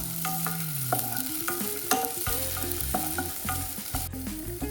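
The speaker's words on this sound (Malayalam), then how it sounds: "അതിലേക്ക് കുറച്ച് സവാള ഇത്രയിട്ട് നല്ലോണം ഒന്ന് വഴറ്റി കൊടുക്കാം." Sliced onions sauté and sizzle in a pan while being stirred, a steady frying hiss set under melodic background music.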